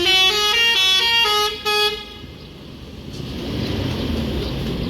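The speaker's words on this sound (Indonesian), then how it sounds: "PO Palala menjadi PO bus kedua yang masuk ke dalam terminal ya" A PO Palala bus pulling into a bus terminal sounds a loud, close multi-tone horn in several rapid bursts, followed by a steady engine rumble and background terminal noise.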